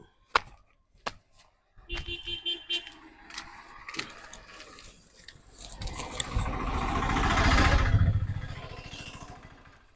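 A palm trunk is chopped into food for an elephant, with a few sharp, separate blows at first. A motor engine then rises and swells loudly over the scene.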